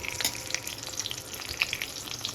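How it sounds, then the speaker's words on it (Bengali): Hilsa fish fries in a pan with steady sizzling and sharp spitting crackles of hot oil, close and fairly loud, with no voices. "দেখো এখন হচ্ছে ইলিশ মাছ ভাজা।"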